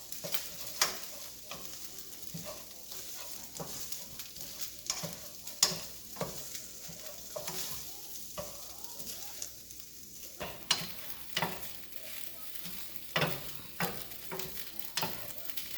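Egg fried rice being stirred in a pan with seasoning, a steady run of scraping and clattering strokes of the utensil over a soft sizzle, close and fairly quiet.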